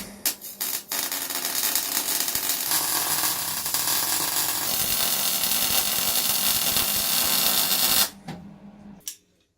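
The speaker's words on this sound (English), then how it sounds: "then I can run beads all the way along each of the edges" Arc welding beads along the edges of a steel cube, a loud continuous crackling hiss lasting about seven seconds, bracketed by short clicks and bursts before and after.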